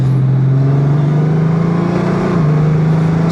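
Honda Gold Wing GL1800 DCT motorcycle engine pulling steadily through its gears, a loud, close, sustained drone whose pitch holds level and then drops slightly at a shift, with wind rush all around.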